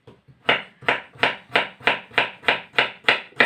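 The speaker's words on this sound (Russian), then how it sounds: "И таким же способом я дорезаю всю остальную картошку." A knife chops through potatoes on a cutting board in about eight quick, evenly spaced thuds, close and distinct with no talking.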